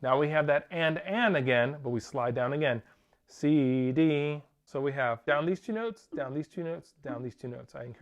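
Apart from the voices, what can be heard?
No distinct noise like a dog, phone or traffic.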